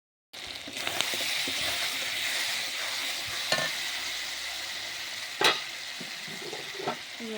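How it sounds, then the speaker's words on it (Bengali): Bottle gourd fries in a pan with chicken skin in a steady close sizzle, broken by a few sharp clacks of a stirring spoon against the pan. "এর ভিতরে লাউটা ঢেলে দেবো।"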